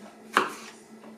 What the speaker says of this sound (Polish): I w ten sposób skrajamy całą naszą paprykę i wrzucamy do miski.